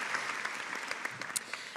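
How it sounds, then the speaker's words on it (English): Applause for international students completing their Masters degrees at a graduation ceremony, steady continuous clapping from an audience filling the whole moment. "Big round of applause for our international students completing their Masters."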